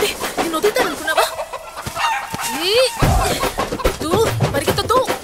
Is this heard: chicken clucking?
yes